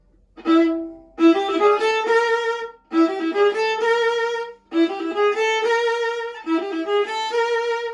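A bowed string instrument plays a lilting, dance-like melody from Bartók's String Quartet No. 5 in short phrases separated by brief pauses, close and clear with no other sounds.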